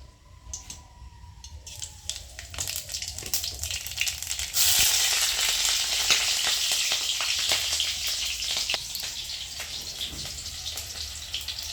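Green chili and black cumin tempering sizzle in hot oil for an ash gourd fry, a loud steady crackle with sharp pops that surges midway and holds to the end.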